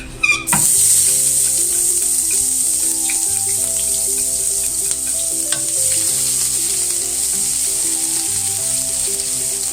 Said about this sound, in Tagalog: So first, we'll be sauteing the onion.